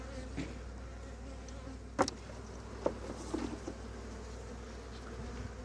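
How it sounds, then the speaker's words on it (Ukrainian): Honeybees at an apiary hive, about a hundred bees behind the division board, give a steady faint buzzing drone throughout, with a few soft knocks and handling sounds, and no talking. "тут по якісь сотні-півсотні бджіл є в нас"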